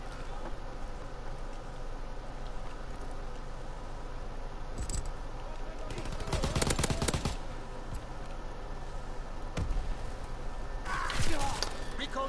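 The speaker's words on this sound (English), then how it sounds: "that gun that guy is shooting you with has zero recoil" Gunfire rattles in the Call of Duty WW2 shooter, a few short bursts of automatic fire and sharp impacts cutting through a constant background of game noise at moderate loudness.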